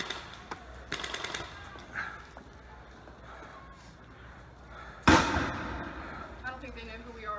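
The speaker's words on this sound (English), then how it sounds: "Poff, they're firing, get down." Gunfire from approaching enemies in a combat scene: a sharp, loud burst of shots strikes near the end, after faint earlier pops, with people talking throughout.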